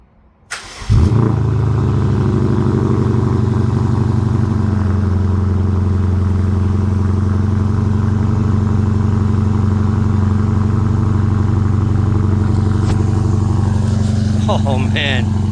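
A 2012 BMW F10 550i xDrive M Sport with a Turner muffler-delete exhaust cranks and fires after a brief quiet moment, then settles into a loud, steady, deep rumbling idle that holds for the rest of the clip.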